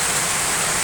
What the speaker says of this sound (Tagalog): Maulan-ulan na po ngayon.